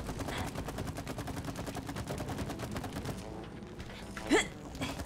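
Gunfire in the co-op video game It Takes Two, a rapid, continuous stream of shots in even rhythm at moderate loudness, followed by a brief sharp gasp-like sound near the end.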